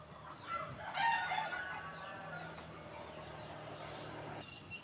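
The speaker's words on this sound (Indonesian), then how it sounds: "ternak ayam, tuh ternak ayam." Chickens and a rooster at a village chicken farm in rural Indonesia, a rooster crowing loudly once near the start amid clucking hens and a steady background of chirping crickets.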